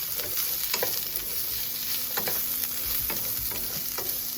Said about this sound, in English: You're gonna saute your onions.